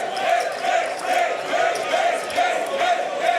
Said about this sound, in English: With the crowd calling for this night to be over.